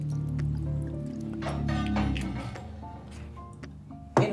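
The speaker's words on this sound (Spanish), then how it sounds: "Le vamos a agregar la cucharita de vinagre de manzana" Apple cider vinegar, a small spoonful, poured into a vegetable sauce for fish, giving soft nearby drips and a brief liquid trickle over low kitchen background noise, ending in a sharper clink.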